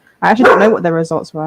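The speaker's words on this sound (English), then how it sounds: "Excuse my dog, as per usual." A household dog yips and barks in a few short bursts close by, mixed in with someone talking over it.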